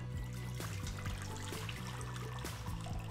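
Very cold water poured into a mixing bowl, a continuous close trickling and splashing stream lasting a few seconds, with no talk over it.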